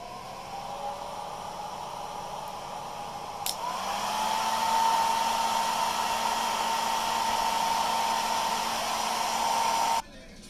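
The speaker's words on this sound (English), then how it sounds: "So now I'm going to start heating it up with a hairdryer." A hair dryer heating a phone blows with a steady, loud whooshing roar, its pitch rising slightly after a click early on, then cutting off near the end.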